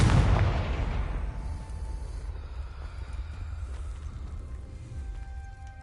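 A Confringo blasting spell from Hogwarts Legacy erupts in one loud explosive burst at the start, then fades into a long low rumbling tail, with no voices.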